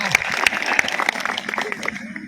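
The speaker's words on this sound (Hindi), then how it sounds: "इस बात पर एक बार जोरदार तालियां बजनी चाहिए।" Audience applause at a Hindi poetry gathering (kavi sammelan), a steady burst of clapping from a crowd lasting a couple of seconds, with a voice heard faintly over it.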